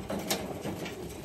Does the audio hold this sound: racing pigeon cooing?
yes